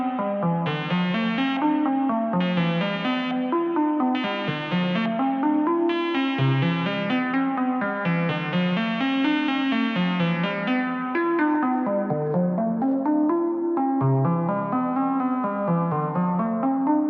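Moog Mavis analog synthesizer with resonance up and filter cutoff turned down, playing a repeating bass-heavy sequence of notes, each with a resonant filter sweep, steady and loud with no talking.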